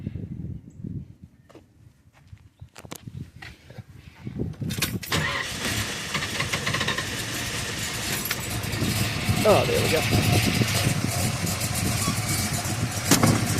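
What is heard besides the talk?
1970 Boss 302 car engine starting and idling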